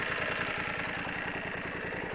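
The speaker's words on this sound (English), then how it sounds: "the engine sounds like a little bit of clackety-clack to me" A 2023 BMW F 900 XR motorcycle engine idles close by with a steady, even pulse and a slightly clattery, ticking mechanical note, continuous throughout with no talking.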